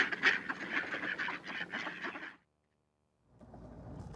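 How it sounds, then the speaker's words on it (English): Wood ducks quack in a dense cluster of calls close by on a home deck in winter, then fall silent briefly before faint, low background sound returns. "Don't see wood ducks get that close to you, do you?"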